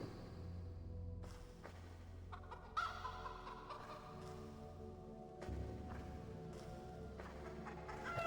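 A chicken clucks in the Arx Fatalis video game, faint and low in level beneath a dense, steady wash of in-game ambience, with no distinct bursts standing out.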